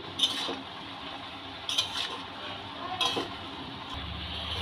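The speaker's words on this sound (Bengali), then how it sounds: "হলুদ লবণ দিয়ে শাকটাকে ভালো করে নেড়ে নেব।" Bathua greens frying with turmeric and salt are stirred in a pan, bringing three scraping swishes over a steady soft sizzle, close by with no voices.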